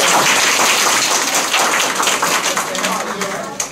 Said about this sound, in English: Give her a round of applause for a great